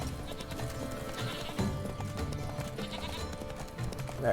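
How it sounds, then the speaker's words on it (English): Several goats bleat in short calls over a busy background of hoofbeats and low rumbling, with a brighter cry near the end, in the video game The Witcher 3: Wild Hunt. "Goats all over the place."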